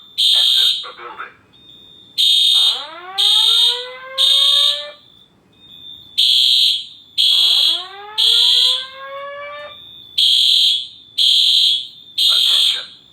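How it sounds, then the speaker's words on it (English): A Simplex fire alarm sounds in a building with repeated loud electronic horn bursts, separated by rising whooping sweeps. It carries on for several cycles, close and harsh, with no talk over it. "This is a fire alarm. Exit the building."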